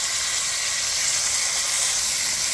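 Gungo peas go into a pot of sizzling Jamaican curry, raising a loud, steady hiss of frying and steam that holds evenly throughout.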